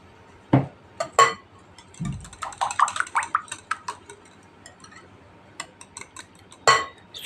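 Eggs whisked in a bowl with a metal whisk for a mock su böreği batter, heard as a quick run of close, bright clinking strokes against the bowl, set between a few louder knocks and clatters.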